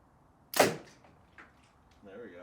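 An Annihillator shot blasting through three pumpkins outdoors: one sharp, loud crack with a brief splattering tail, followed by a faint thud and then a voice starting to speak.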